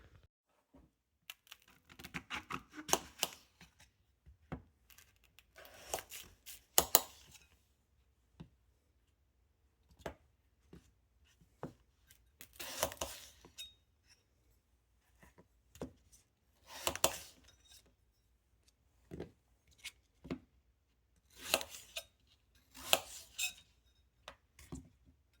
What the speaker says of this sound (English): I'm just going to cut an apple and see how it does